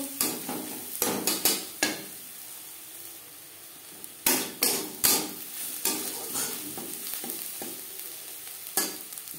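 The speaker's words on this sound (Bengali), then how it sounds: "পেঁয়াজের সাথে হলুদ বেশ ভালো করে মিক্স করে দেব" Onions frying in a pan with turmeric powder, stirred with a utensil that scrapes and knocks in bursts of clatter over a steady sizzle, close by.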